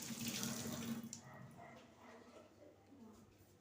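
Tap water runs in a home kitchen where fish is being prepared, a loud gushing splash at first that drops to a quieter trickle.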